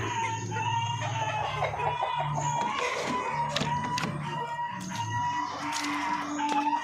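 Native darag chickens alongside a white Parawakan cluck continuously in a farmyard, with overlapping calls and bursts of crowing from roosters close by.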